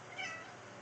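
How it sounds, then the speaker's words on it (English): A house cat gives a single faint, brief meow indoors, quiet and somewhat distant. "Sorry, that's my cat."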